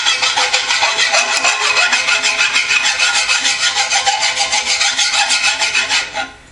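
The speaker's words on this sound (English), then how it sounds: "keeping your fingers pushing down tightly here so that the file stays flat against it" Hand file worked over the flat side of a 1953-1962 Corvette steering gearbox, a loud, close rasp repeating in fast, even back-and-forth strokes that stop abruptly at the end.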